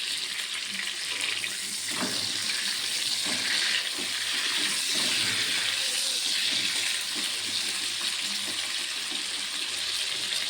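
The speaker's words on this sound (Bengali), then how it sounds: "ফুলকপিগুলো একটু লাল লাল করে ভেজে নেব।" Cauliflower pieces frying in oil in a wok give a steady, loud, dense sizzle that holds without a break the whole time, with faint clatter underneath and no talk.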